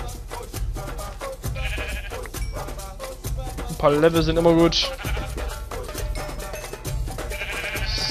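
Sheep in Minecraft bleat a few times, short wavering calls rising over game sounds while a German-speaking player talks throughout.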